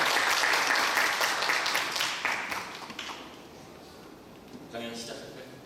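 An audience applauds to welcome a university professor to the lecture podium, steady clapping fading over a few seconds, followed by a brief spoken greeting.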